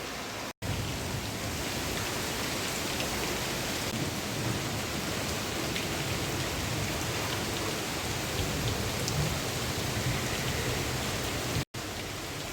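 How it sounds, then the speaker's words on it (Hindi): Heavy downpour at the Ganges in Haridwar, a dense, loud, unbroken roar of rain with wind, heard from under a sheltered gateway roof, steady throughout with no talking. "और बाहर तो अचानक मूसलाधार बारिश,"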